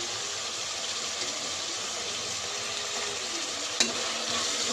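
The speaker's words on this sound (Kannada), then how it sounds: "ಅರಿಶಿನ ಹಾಕ್ಕೊಂಡು ಫುಲ್ ಫ್ರೈ ಮಾಡ್ಕೋಬೇಕು." Tomatoes fry with turmeric in a hot pan for menthya palav, giving a loud, steady sizzle with a light stir and a brief clack near the end, and no voices.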